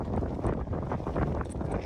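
Wind buffets the microphone in a continuous low rumble with gusty swells, no voices, at a beach resort at sunset.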